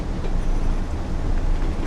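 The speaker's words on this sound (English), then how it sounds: "seeing that train go past" A train rumbles steadily past in the Train Sim World video game on the Northern Trans-Pennine route, a dense, constant roar with no voices.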